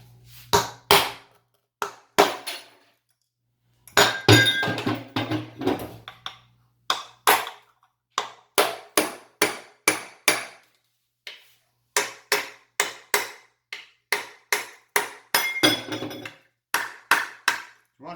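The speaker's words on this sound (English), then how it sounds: "You want to try and break it off in big pieces." A hammer smashes a granite bathroom sink, delivering a long series of hard, sharp strikes in uneven bursts with brief pauses, each impact cracking loudly and close with gritty chips.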